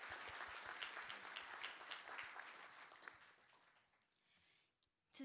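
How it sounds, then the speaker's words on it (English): An audience at a keynote session of an opening conference day gives thick, sustained applause that thins out and fades near the end before a short burst of sound. "We would like to give His Excellency the big round of applause."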